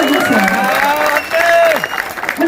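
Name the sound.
crowd applause at political rally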